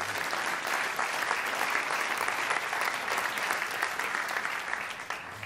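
Steady audience applause fills the whole stretch at a comedy talk on racism and national identity, a dense, continuous wash of many hands clapping at an even loudness before easing off at the very end.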